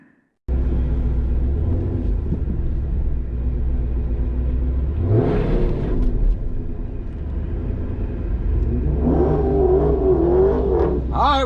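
A tuned Dodge Challenger Hellcat starts up and idles with a deep, loud rumble, then revs hard twice, the second rev rising and wavering, all close by with no talk.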